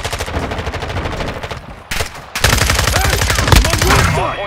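Rapid automatic gunfire from Call of Duty: Modern Warfare II rattles loud and continuous in dense bursts, briefly easing before an even heavier barrage with scattered metallic clinks.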